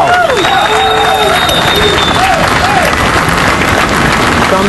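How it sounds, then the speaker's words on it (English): A large outdoor crowd at the World Trade Center site in New York City claps and cheers as a piece is lowered into place, loud and continuous, with whistles and rising voices sliding over the roar. "They're clapping."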